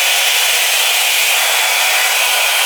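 A Revlon One Step blow dryer brush with a 1.5-inch round barrel runs on its hottest heat setting, giving a steady, loud, close airy whoosh with no break and no voices.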